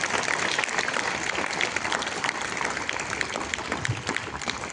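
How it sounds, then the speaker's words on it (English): At a school Thanksgiving Day assembly, an audience applauds the ministerial staff with a continuous, fairly loud wash of clapping that stays steady throughout. "a big round of applause for our incredible ministerial staff"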